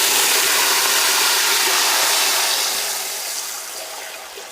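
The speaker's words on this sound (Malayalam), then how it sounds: "അരിയുടെ ഡബിൾ വെള്ളം കൂടെ ഒഴിച്ച് കൊടുക്കുക" Water, double the amount of rice, is poured into a pot of rice with bay leaves for Kabaliyath rice, making a loud, steady rushing pour that eases slightly toward the end, with no talking.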